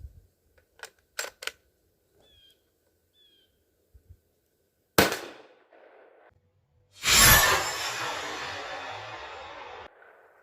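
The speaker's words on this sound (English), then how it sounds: "Let's go ahead and hit it with the 150 grain full metal jacket" A 300 Blackout rifle fires a 150-grain full metal jacket round at a quarter-inch steel plate outdoors. A single loud blast with a long decaying tail follows some faint clicks and an earlier sharp snap.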